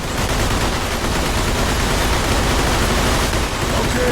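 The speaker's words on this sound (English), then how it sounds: "There are few things more satisfying than clearing a room of your rivals out with a classic Tommy gun" Tommy gun firefight in Mafia II, with dense, continuous automatic gunfire and loud overlapping bursts filling the whole stretch without letup.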